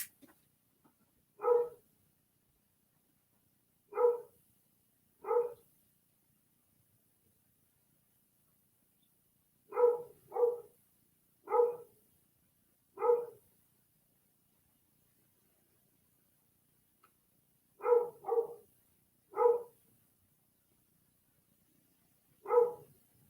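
A dog barks indoors in short bursts of one to three barks separated by long quiet pauses, moderately near but muffled, with no other sound between.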